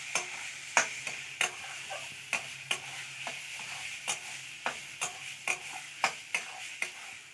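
Pea kachori filling with sugar is fried and stirred in a pan: a steady soft sizzle runs throughout, broken by sharp, regular scrapes of the spoon against the pan roughly every half second. No one speaks.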